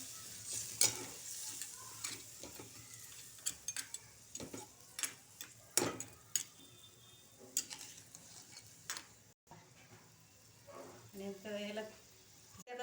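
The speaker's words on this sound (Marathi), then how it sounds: "शिजून द्यायचं म्हणजे चांगलं परतून घ्यायचं" Quiet stirring of crab masala in a pan, with a spoon scraping and clicking against metal over a soft background sizzle, irregular taps throughout.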